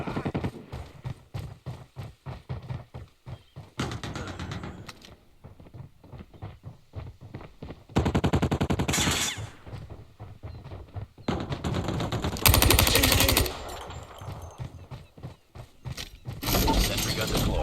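Deploying a sentry gun in a video game brings bursts of rapid gunfire between quieter stretches of clicking mechanical sounds, loud and close.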